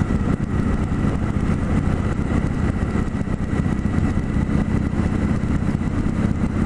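A chopper motorcycle rides downhill through curves in Joshua Tree National Park, its engine giving a loud, steady, rumbling drone with heavy wind noise throughout.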